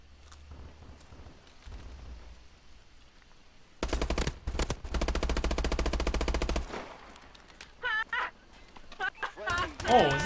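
Pistol shots in Call of Duty: Advanced Warfare come as a loud rapid string of cracks, followed by a few shorter separate bursts and a voice speaking near the end.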